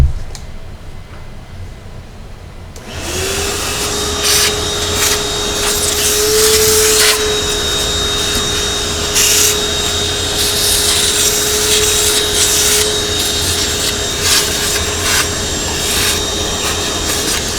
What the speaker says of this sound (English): Clean the machine off good.